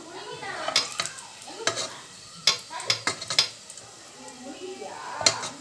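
Fried onions being lifted out of hot oil with a metal utensil for Bobby mutton biryani, sharp scraping and clinking strokes against the pan over a soft sizzle, several distinct scoops spaced through the clip.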